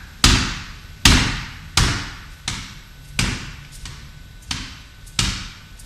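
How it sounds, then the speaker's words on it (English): Light, quick taps on a Wing Chun punching bag, eight sharp close impacts at an even rhythm about every 0.7 seconds, each with a short bright decay, no voices. "Here, you'll hear a tap,"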